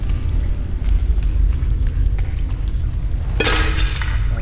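Glass or pots breaking in the video game Tomb Raider Underworld, a single sharp shattering burst near the end over a steady, loud rumbling game background.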